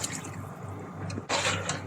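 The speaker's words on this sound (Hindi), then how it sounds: "अब हमें पानी ऐड करना है।" Water is poured into a pot of kulfa gosht, meat about 80% cooked in a pressure cooker. A short, bright, splashing gush starts abruptly after a quieter sizzling stretch.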